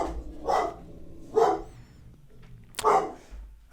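A dog barks in three separate bursts spaced about a second apart, moderately loud and close, with quiet room tone between the barks and no talking.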